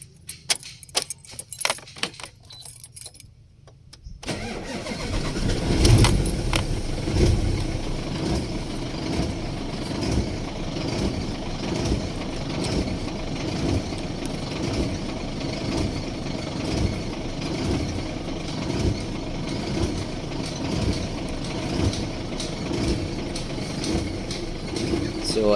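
Keys jangle briefly before a car engine with an alternator that is not charging and a burnt-out fusible link cranks, starts and settles into a steady rhythmic idle, with some talk over it.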